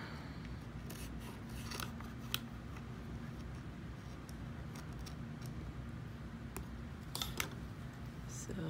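Trimming with scissors-like clicks: scattered sharp snips and ticks over a steady low hum, fairly quiet and close, with small clusters of cuts near the end.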